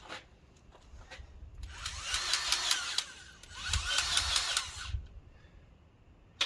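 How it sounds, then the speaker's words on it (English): A Ryobi 18-volt cordless grease gun runs in two motorized bursts of about a second and a half each, a buzzing whir with a short pause between, close and fairly loud over quiet background. "I just wanted a demonstration on my new grease gun"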